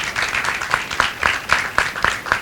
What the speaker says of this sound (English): Can we please have a big round of applause for Prateik?